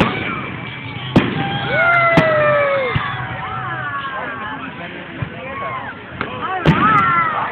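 Sharp Fourth of July fireworks bangs crack out at irregular intervals in Santa Maria, California, some close and loud, over whistling, whining rockets and a wash of distant crowd noise and voices.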